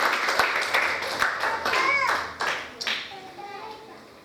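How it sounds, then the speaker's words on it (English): A church congregation claps during a sermon, a run of sharp hand claps and some scattered rhythmic clapping heard close, mixed with voices and children talking, fading toward the end. "We have to clap and say thank you."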